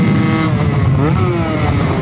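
A motorcycle engine runs loud and steady at speed, a close, continuous roar with slight pitch wavering throughout.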